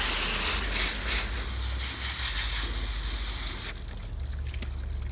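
Water runs steadily over freshly harvested plant roots mixed with perlite during rinsing, a continuous close hiss and trickle that eases off slightly toward the end.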